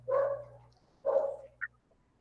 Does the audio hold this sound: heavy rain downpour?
no